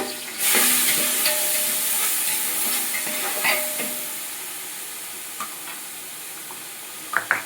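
Turmeric frying with chopped capsicum for veg rice in a small kitchen: a continuous hiss of sizzling oil near the mic, with occasional soft stirring taps and a couple of sharp clicks at the end.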